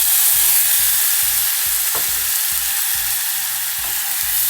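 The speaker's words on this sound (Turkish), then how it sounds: "Güzelce karıştırıyoruz." An onion filling mixture with chili flakes, salt and a splash of water is stirred in a pan, the spoon knocking the pan in a quick regular rhythm over a bright, constant sizzle, close and with no talking.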